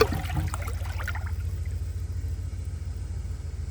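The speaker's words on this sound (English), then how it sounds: "I'm going to flush it and see if it passes." A 2018 American Standard Townsend Vormax toilet flushes with a dish towel in the bowl, giving a steady, close rumble of rushing water that hisses brightly at first and then settles into a low, even churn.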